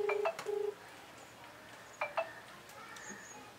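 Mobile phone keypad being dialed to call a friend, a few short electronic touch-tone beeps in two quick bursts, close and clear over a quiet outdoor background.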